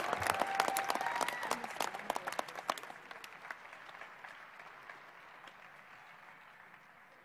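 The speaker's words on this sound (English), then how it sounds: "let's give all of our student-athlete graduates a big round of applause" Crowd applause at a student-athlete graduation convocation, a lively burst of many hands and sharp individual claps that gradually fades into the hall's background.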